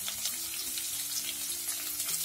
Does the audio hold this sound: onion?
yes